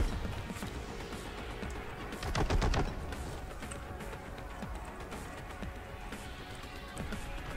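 Heavy weapon gunfire in the shooter game Boltgun: dense, continuous rattling bursts under constant game noise, with one louder flurry of rapid impacts near the middle, no voices.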